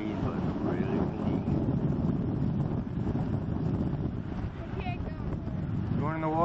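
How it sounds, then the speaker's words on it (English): Strong wind at the beach on Longboat Key buffets the microphone in a constant loud roar, with surf noise beneath and brief faint voices near the end. "70 degrees, but really windy."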